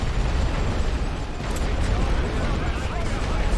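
Heavy artillery pounding a trench in The Great War: Western Front, a dense continuous rumble of blasts and booms at steady loudness, with someone talking over it.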